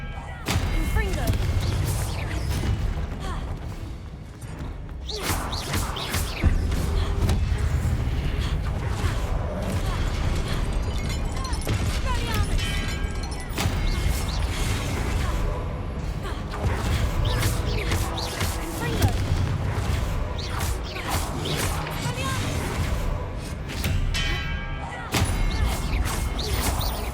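Confringo blast spells in Hogwarts Legacy, a string of sharp booming impacts and crashes repeating irregularly through the stretch, loud and close, with a voice calling out over the combat noise.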